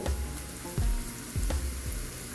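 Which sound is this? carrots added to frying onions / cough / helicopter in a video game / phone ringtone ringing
carrots added to frying onions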